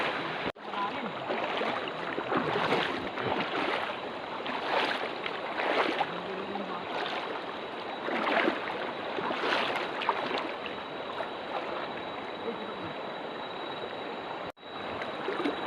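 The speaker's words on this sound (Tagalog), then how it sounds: "ito yung unang ilog na tatawirin namin." A shallow, knee-deep river in Dingalan, Aurora runs with a constant broad rushing and splashing, fairly close and steady, with faint voices underneath.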